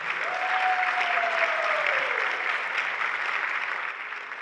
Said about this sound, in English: So give those percussion a round of applause for playing that.